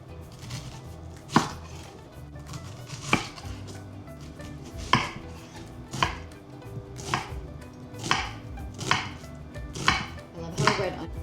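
Half a red onion is chopped on a board for nachos in a run of sharp, close knife strikes. The rhythm is uneven, at roughly one or two chops a second, and there is no talk.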